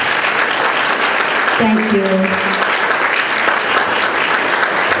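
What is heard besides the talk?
applause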